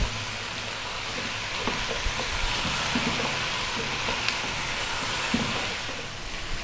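Carrots and vegetables for curried carrot coconut soup sizzle steadily in a hot pan, with occasional soft scraping knocks from stirring.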